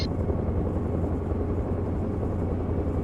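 A helicopter flies in ARMA Reforger, a steady low rotor and engine drone held at constant level, fairly distant and unbroken, with no talk over it.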